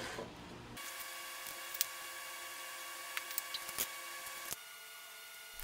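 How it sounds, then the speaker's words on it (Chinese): A power driver sends screws into a wooden planter post, its motor a faint, steady whine lasting several seconds, with a few sharp clicks and taps along the way. "建议这么打螺丝，一下子就进去"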